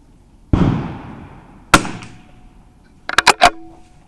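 A .22LR rifle fired at an outdoor shooting range: one loud close crack with a decaying tail, a second sharp shot, then a quick burst of about four rapid shots.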